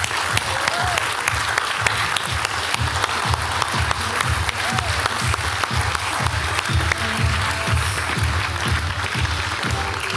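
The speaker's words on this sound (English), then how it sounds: "Kurek Ashley, big round of applause." A live audience bursts into sustained applause for motivational speaker Kurek Ashley after a glass-breaking demonstration, dense clapping steady and loud throughout, with a few faint cheers mixed in.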